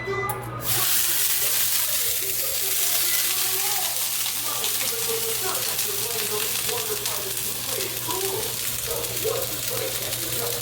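Dosa batter cooking on a hot pan, a steady close sizzle and crackle that continues throughout, with a low background hum and faint voices now and then.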